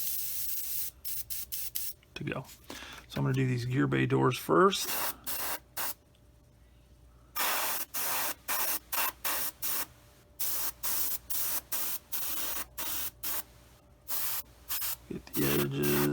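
An airbrush sprays primer onto the landing gear bay doors of a 1/48 Tamiya F4F-4 model aircraft in repeated short hissing bursts of varying length, with someone talking between some of them.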